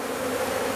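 Honeybees swarming around their old hive during a shook swarm, a steady, dense insect buzz filling the whole moment at close range with no voices.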